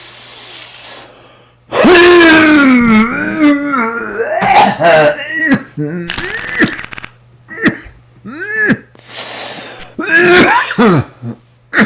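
A person coughs and clears their throat repeatedly, loud and close, with strained voiced gasps and short pauses between the fits.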